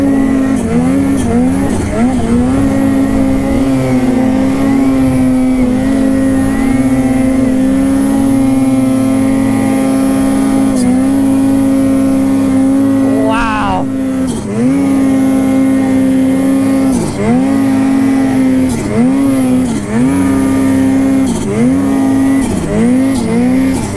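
A 175 Turbo engine revving hard on a ride up a hill, a loud steady high-pitched drone whose pitch climbs and dips repeatedly with throttle changes, close and continuous throughout.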